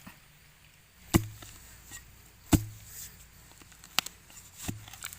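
Several dull, heavy thuds land a second or so apart as a tool digs into soil, over faint outdoor background noise.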